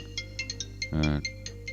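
A phone ringtone chimes in short repeated electronic tones, with one fuller, louder burst in the middle, fairly quiet and with no voices.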